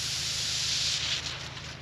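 Water sprays in a hard, steady hiss from a farm irrigation pipe once the pump starts, loud and close, with a low pump hum underneath that eases slightly toward the end.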